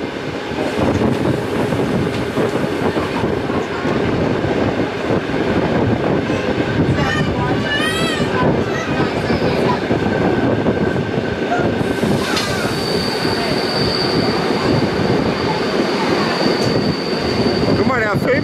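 Sauschwänzlebahn heritage train running through the Wutach valley, loud continuous rail rumble and clatter with squealing wheels on curves and a sustained high whine in the later part, with voices talking intermittently.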